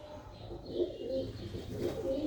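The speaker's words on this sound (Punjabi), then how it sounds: "ਚੀਨਾ ਕਬੂਤਰ" Chinese pigeons cooing softly at a pigeon sale, a few low rolling coos repeating over a steady murmur of background noise.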